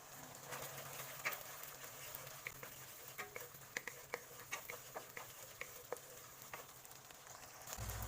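Garlic, oyster sauce and ketchup stir in a hot pan for buttered garlic shrimp, giving a faint, steady sizzle with scattered light scrapes and taps throughout, no voices present.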